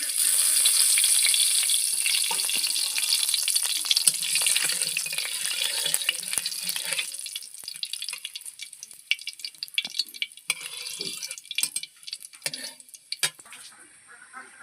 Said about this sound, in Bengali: পাঁচ ফোড়ন দিয়ে দিচ্ছি